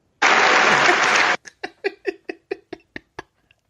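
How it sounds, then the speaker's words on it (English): Audience applause during a podcast recording: a dense, loud burst of clapping lasts about a second and cuts off abruptly, followed by a string of short, rhythmic laugh-like pulses that fade out. "That's why we got the applause."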